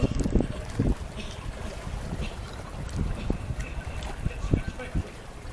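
Gusty wind buffeting a sailing boat off St Lucia, steady close roar and rumble against the microphone with low thumps, while a voice talks over it.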